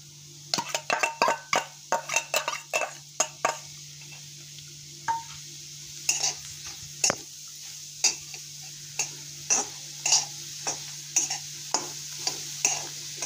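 Sharp, irregular clinks and scrapes of a utensil working chopped onion in a hot wok before oil is added, with a steady soft sizzle underneath, close by and no talking.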